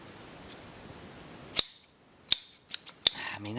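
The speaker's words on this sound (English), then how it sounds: "about the biggest pair of scissors I've ever seen in my life" A very large pair of scissors snips a few times, with sharp metallic clicks close by against a quiet hiss, the last cut followed by a brief scrape.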